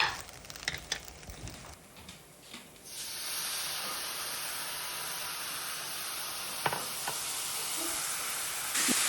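BBQ sauce poured over browned soy curls in a hot pan, a soft sizzle that swells into a steady, even hiss and holds, faint and close, with a few light clinks.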